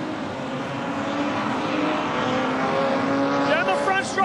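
Production sedans racing at Carina Speedway dirt oval roar steadily down the front straight, a sustained engine drone rising slightly, with a race commentator's voice over the top.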